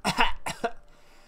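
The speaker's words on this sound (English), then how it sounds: "Cough, hack." A woman in the horror game Mad Father coughs in a quick fit of two or three harsh, close hacking coughs, then falls quiet.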